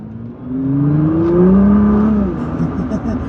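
A Nissan GT-R sports car accelerates with a rising engine whine and revs inside the cabin, loud and steady, while people talk over the drone.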